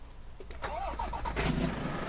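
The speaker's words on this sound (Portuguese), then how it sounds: "Vamos mostrar o ronco do motor." Volvo truck engine from Euro Truck Simulator 2, modded with air suspension, cranking and starting then idling with a short rev, steady mid-pitched rumble close up, no talking.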